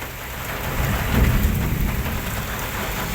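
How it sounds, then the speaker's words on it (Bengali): Steady rain with rumbling thunder heard from inside a parked car, a continuous dense patter on the body and glass with low rolling thunder swelling in the middle, no voices. "এই যে বৃষ্টি নামতেছে, দেখুন আমি গাড়ির ভিতরে আছি"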